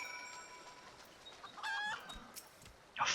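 Chicken clucking in Final Fantasy XIV, a few short harmonic clucks in the middle of a faint game soundscape, followed by a brief louder burst at the end.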